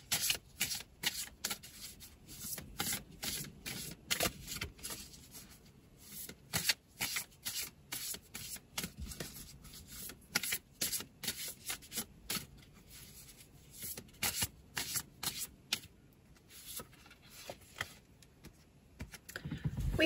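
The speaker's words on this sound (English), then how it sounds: "And I'm shuffling the second card." Oracle cards being shuffled by hand for a monthly reading: a steady run of quick, soft papery riffling clicks and slides, close and fairly quiet, continuing for about twenty seconds with no talking.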